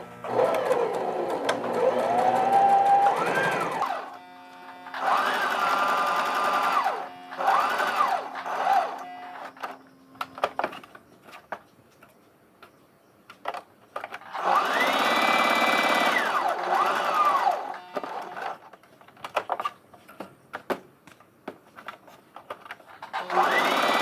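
A sewing machine stitches around the yoke neck of a baby frock, whirring in two long steady runs with shorter bursts and pauses between, close and clear with little talk.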